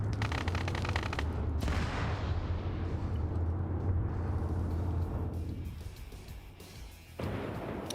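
Machine guns rattle in a military video game, with sustained, loud bursts of dense gunfire and rumbling booms that fade briefly before another sharp volley starts.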